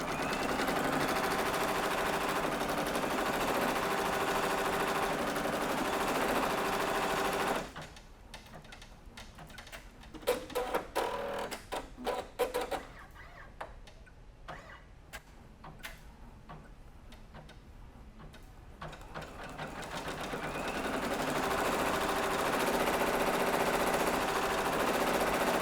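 A free arm embroidery machine stitches a design onto a bag, its needle tapping out a rapid, steady ticking that sounds close and continuous, with a quieter stretch midway where individual stitch clicks stand out more sharply.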